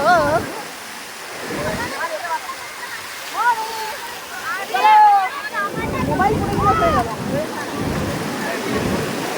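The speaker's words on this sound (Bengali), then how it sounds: "ঢেউ আসছে চলে যাবে" Surf washes in and rushes out with a broad roar on Puri beach in India, while voices and excited shouts carry over the water nearby.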